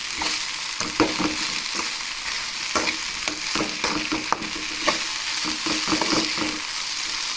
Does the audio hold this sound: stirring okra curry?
yes